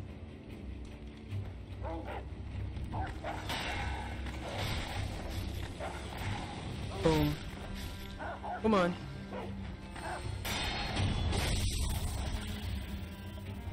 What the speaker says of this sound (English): There's some dogs.